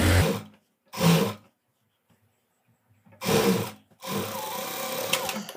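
A sewing machine stitches a Sabyasachi blouse in short separate bursts, two brief runs, a long pause, then a longer sustained whir, close and fairly loud.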